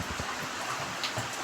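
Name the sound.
heavy rain falling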